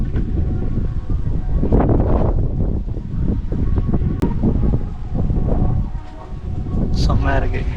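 Wind buffeting the microphone on the hilltop at Narthamalai Mariamman temple, a steady rumbling gust with swelling surges, and a voice speaking at times underneath.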